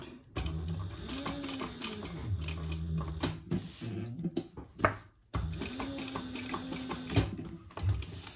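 A sewing machine stitching a tote bag runs in bursts with a whirring motor and rapid needle clatter, pausing briefly between runs, close and moderately quiet.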